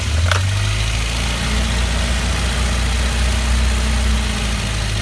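Ford Econovan van engine running after a starter motor service, a steady low idling rumble with a faint click at the start, loud and continuous, no talk.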